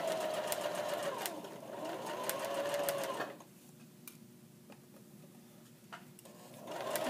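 A sewing machine stitches stretchy fabric for a pant pocket in a steady, close whirring run that pauses with a few faint clicks, then starts up again at the end.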